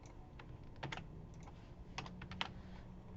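Fingers tap quickly on a computer keyboard with clustered, irregular keystrokes and a few louder clicks, quiet and close, with no talking.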